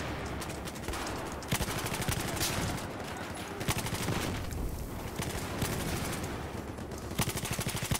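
Machine gun fire in Battlefield on Operation Lockers, repeated rapid bursts of automatic shots in clustered volleys separated by brief pauses, loud and close with some distant gunfire mixed in.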